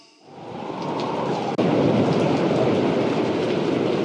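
Stormy rain sound effect: a steady, loud roar of heavy rain and rumbling wind, with a sharp crack of thunder breaking in partway through, continuing dense and unbroken to the end.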